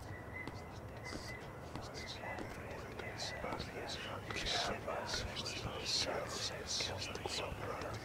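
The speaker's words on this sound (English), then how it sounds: "So there is definitely whispering." Faint whispering voices murmur inside a storage unit, a soft breathy hiss with a few sharper sibilant bursts rising slightly toward the end over a low steady background rumble.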